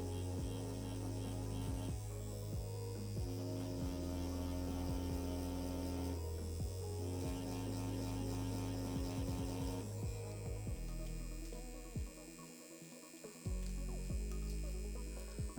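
A tattoo machine buzzes continuously while colour packing, a steady electric hum with shifting tones and brief stops, close and fairly quiet, with no speech.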